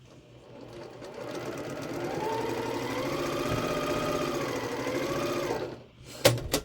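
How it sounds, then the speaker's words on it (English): A sewing machine stitches a quarter-inch seam on a quilt block, running as a steady close mechanical whir for about five seconds, then slowing and stopping with a few clicks. "So now I'm going to sew 1/4 inch down this side."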